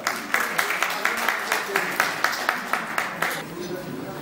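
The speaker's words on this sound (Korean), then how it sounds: "여러분 박수로 맞이해 주십시오." An audience at a year-end forum applauds to welcome a harmonica performer, rhythmic clapping in regular beats, moderately loud and close, fading slightly toward the end.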